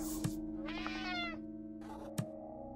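A cat in the Slayaway Camp video game meows twice, a drawn-out game-audio meow followed by a shorter one, heard alone over a steady musical background with sharp clicks between.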